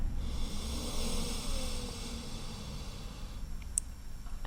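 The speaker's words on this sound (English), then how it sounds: "Even longer, soft exhale." A long, soft exhale during a yoga breathing flow, a steady airy breath close to the microphone lasting several seconds and tapering off quietly, with no talk.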